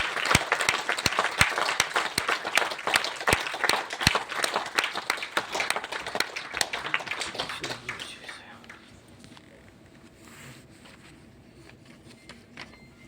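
An audience welcomes a speaker onto the stage with loud, uneven clapping and sharp individual claps that fade out after about eight seconds, leaving quiet room noise.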